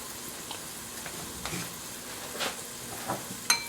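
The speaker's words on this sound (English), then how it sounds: "let this hang out at kind of a low heat and sweat the onions and" Onions and celery, with green pepper, sweating in a pan over low heat give a soft, quiet sizzle with scattered light scrapes and taps of stirring throughout.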